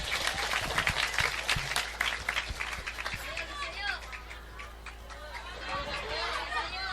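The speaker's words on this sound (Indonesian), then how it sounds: "Tepuk tangan dulu untuk Ramadhani." Audience applause for a child named Ramadhani at an Islamic sermon gathering: dense, steady clapping from a crowd, mixed with chatter and a voice speaking over it, then fading.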